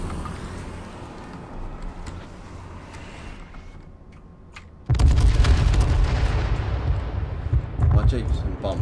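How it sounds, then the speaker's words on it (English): Heavy explosions from bombs hitting a jeep in the H1Z1 video game: quieter rumbling game noise first, then a sudden loud blast near the midpoint followed by sustained booming and crackling debris, with voices talking over it. "My Jeep's been bombed twice now, and it's still okay"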